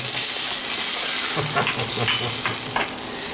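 Onions fry loudly in a pan in Sri Lanka, a dense, close sizzle that fills the clip, with scraping stir strokes breaking through now and then.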